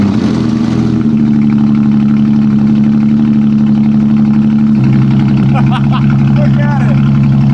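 Porsche 911 engine with no intake fitted, idling unevenly with a steady low rumble that shifts pitch as it searches for a stable idle, loud and close, with brief speech and clicking partway through.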